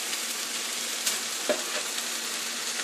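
Shrimp fried rice with eggs frying in a pan, a steady sizzle broken by a couple of short scraping stirs.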